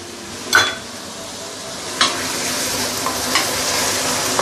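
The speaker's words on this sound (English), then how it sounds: "you want to saute this for probably approximately 2 minutes before we continue" Tomato and curry leaves sauté in a pan for a Malaysian home-style chicken curry, a steady sizzle broken by three sharp scrapes and stirs of a utensil against the pan.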